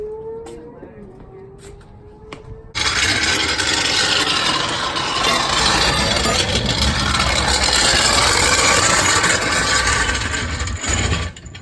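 A Mazda Miata idles through a freshly fitted exhaust, a steady low rumble that kicks in abruptly after a few seconds of quieter background with voices, then holds loud and even until near the end.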